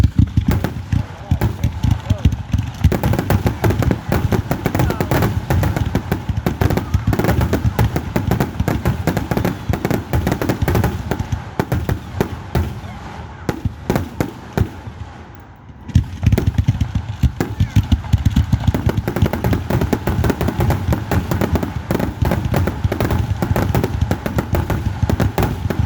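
Independence Day fireworks at a park, a dense barrage of loud crackling bursts and booms in rapid succession, briefly dropping off before resuming, with people's voices in the crowd underneath.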